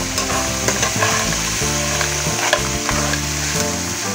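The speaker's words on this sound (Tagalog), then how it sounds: "Yan, ginigisa na mga guys." Freshly caught fish and vegetables sauté in a hot pan at a Qatar port catch-and-cook, giving a steady, loud sizzle and crackle close by that runs without a break.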